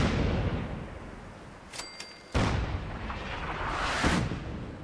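Artillery fire in Fallout 4 booms out at an outpost, a loud blast opening the stretch, a sharp break, then another heavy report with rumbling decay and a later rolling explosion, with no talk over it.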